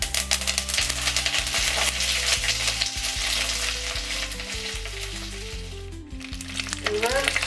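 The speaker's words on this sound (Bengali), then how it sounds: "এবার আমি ফোড়নটা দিই, শুকনো লঙ্কা আর" Dried red chillies and curry leaves sizzle hard in hot oil for a South Indian tempering, a loud continuous frying crackle with occasional stirring clatter, while low music plays underneath.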